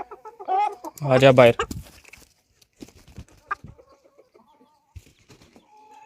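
Hens squabbling indoors, a burst of loud, close clucking and agitated squawks early on, then scattered softer clucks and scuffling, with a brief spoken call in between.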